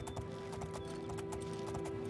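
Horse hooves clip-clop in the Elder Scrolls IV: Oblivion video game, a steady rapid rhythm of hoofbeats at moderate loudness over a constant droning tone, with no talking.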